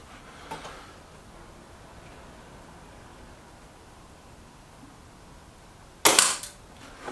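A Reximex Zone air rifle fires pellets at a target, with two sharp nearby shots several seconds apart over a quiet background, the second louder.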